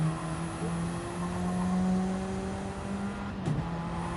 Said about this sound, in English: revving out the engine or shifting as early as these guys are